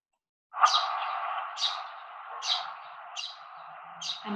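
A sparrow gives a series of about five bright chirps over a continuous twittering trill, close and clear with nothing else audible.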